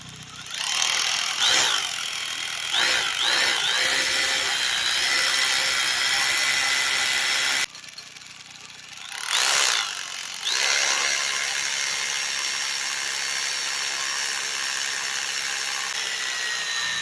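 A Makita hammer drill hammers and grinds in loud bursts while drilling down, pausing briefly before starting again, with rattling mechanical noise throughout.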